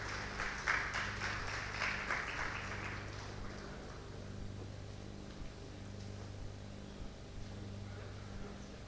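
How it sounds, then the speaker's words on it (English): Audience applause welcoming Governor Babajide Sanwo-Olu at a live tax dialogue event, a burst of clapping in the first few seconds that fades into steady hum and room noise. "Let's make him feel welcome with a round of applause"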